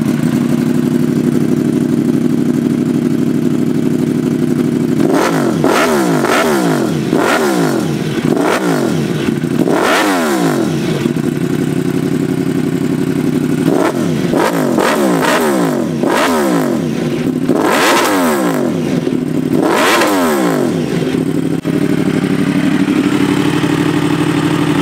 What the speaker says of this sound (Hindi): अब मेन जो आ गया यार वो है इसका एग्जॉस्ट साउंड